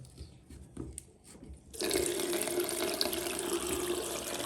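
Hot water tap in a bathroom opened fully while a house's heating and water system is drained, the water starting abruptly and then rushing steadily and loud, close by, with no talking.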